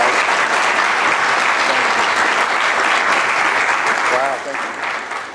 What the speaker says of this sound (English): let's give one final great big fly round of applause for Mr.